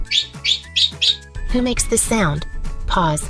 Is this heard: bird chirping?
yes